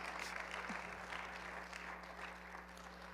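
Steady, dense clapping from a large church congregation during worship continues throughout, with a constant low hum underneath.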